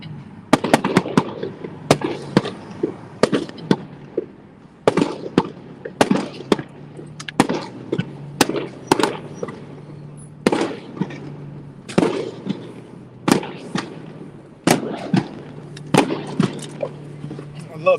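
Fireworks set off after a baseball game near Kodak Tower crack and boom in irregular bursts, some bangs single and some in quick clusters, heard at a distance from a car with occasional talk between them.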